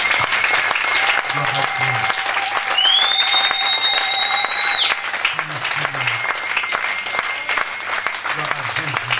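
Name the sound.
church congregation applauding and cheering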